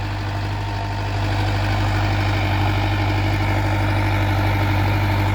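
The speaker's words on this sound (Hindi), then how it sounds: "अब इनके पास ये अर्जुन 605 DI है।" Arjun 605 DI tractor, a 60 hp diesel, idling nearby with a steady, heavy low rumble and constant throb, loud and unbroken, with no talk over it.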